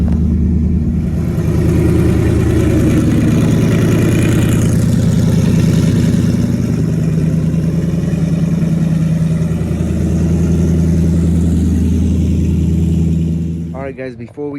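Ford Mustang GT S550 Gen 2 fitted with an eBay GT45 turbo, cold start with hood exit, a loud steady deep idle droning close by for most of the clip before a short burst of other noise.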